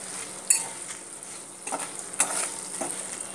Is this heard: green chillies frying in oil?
yes